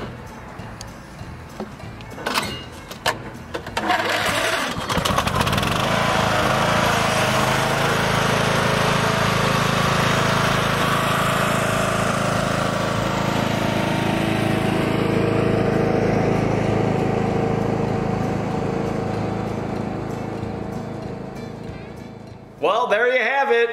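A riding lawn mower, a repaired problem machine, cranks with a few clicks and bumps, then starts and runs steadily at a loud, close drone. It winds down near the end, and someone talks over the opening.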